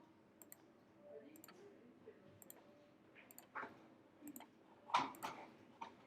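Light computer mouse clicks tap at an uneven pace while working in Photoshop, soft and close, with a few faint background noises and low murmuring between them.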